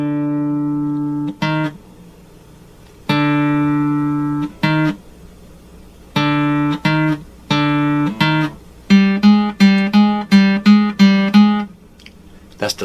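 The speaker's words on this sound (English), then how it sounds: "That's the sound of an approaching shark in the movies." A plucked acoustic guitar plays the intro riff of a song arrangement, a slow two-note figure that repeats in short bursts, then quickens into a rapid, insistent alternation, like the menacing shark-attack theme.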